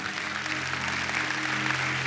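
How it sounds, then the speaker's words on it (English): Church congregation claps during a sermon, a loud sustained wash of applause filling the sanctuary with a low organ-like hum beneath it. "let's go ahead and clap right there."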